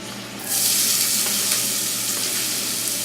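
Apples and onions drop into a hot pan of leftover bacon fat and burst into a loud, steady sizzle that holds close and constant.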